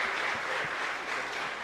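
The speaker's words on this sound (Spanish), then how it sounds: "un fuerte aplauso para el Señor" Congregation applauding at a Catholic Corpus Christi Mass in a chapel, a steady wash of clapping held at an even level throughout, with no talk.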